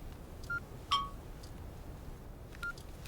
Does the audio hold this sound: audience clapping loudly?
no